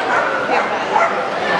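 A large dog at an international agility championship yips and barks amid continuous commentary and a busy crowd background.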